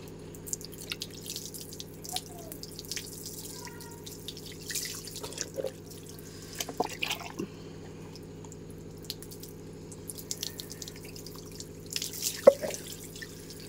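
Water drips and splashes now and then in a sink while something is washed with foaming shampoo. The quiet drops are scattered against a low steady hum, and a few louder splashes come near the end.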